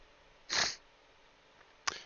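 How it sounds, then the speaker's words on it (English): A person with allergies sniffles twice, one sharp close sniff and then a shorter one, alone with no talk in a quiet room. "Excuse me for that sniffling. Allergies are kind of bugging me a little bit today."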